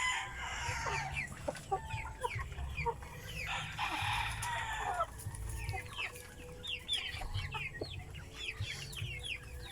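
Several free-range heritage crossbreed chickens cluck and chatter at a steady pace nearby, with an occasional crow and a low rumble in the background.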